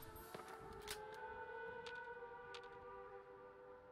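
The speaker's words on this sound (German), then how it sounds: "Wie ist hier so eine Sirene an? Hört ihr das?" Siren wailing in the video game Fallout 76, a loud, steady, layered tone that holds through the whole stretch, with a few sharp clanks and thuds over it.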